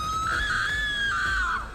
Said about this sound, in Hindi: ये सब देखकर प्रिया जोर से चिल्लाती है